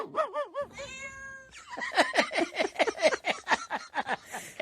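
A cat meows several times close up, with drawn-out pitched calls first, then a quick run of short, rapid chirping mews.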